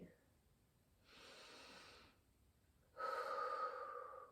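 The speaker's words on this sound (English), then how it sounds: "Breathe in. And relax out." Two slow breaths during a stretching session, a soft inhale and then a fuller, louder exhale, close and quiet with a pause between them.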